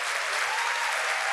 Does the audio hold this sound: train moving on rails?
no